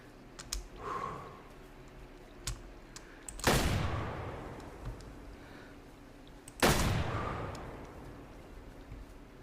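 A shotgun loaded with buckshot fires at a fox in the hunting game Way of the Hunter: two loud, separate blasts several seconds apart, each one trailing into a rumbling echo over quiet outdoor ambience.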